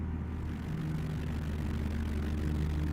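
A small aircraft engine runs at reduced speed, a steady low drone with a constant hum and no talk.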